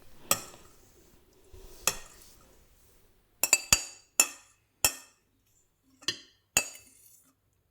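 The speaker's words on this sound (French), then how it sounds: "Alors, on met les grains dans le bocal." Kefir grains are dropped into a glass jar, making a series of sharp glassy clinks and taps spaced irregularly, some in quick clusters, close and clear against a quiet background.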